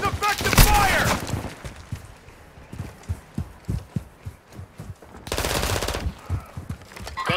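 Gunfire in Call of Duty Modern Warfare 2, bursts of rapid automatic shots with sharp single cracks between them, loud and close, with in-game radio voices speaking.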